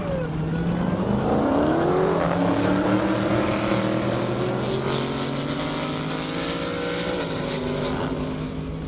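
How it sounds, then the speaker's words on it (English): A fast Camaro drag racing on a half-mile airstrip roars past, a loud, sustained engine howl that climbs in pitch and then slowly fades as it pulls away. "Got Mike Lay in that fast Camaro pulled up next to him,"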